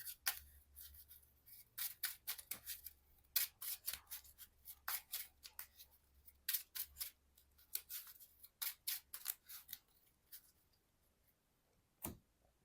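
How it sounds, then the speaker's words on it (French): A deck of game cards being reshuffled during a Marvel Champions card game, with close, quiet clusters of crisp riffling and flicking bursts spread over several seconds, then a pause and one last snap. "moi, je remélange mon deck aussi."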